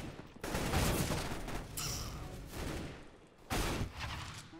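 Gunfire in Counter-Strike: Global Offensive deathmatch, dense bursts of shots filling the clip, with a sharp fresh volley near the end and no talk.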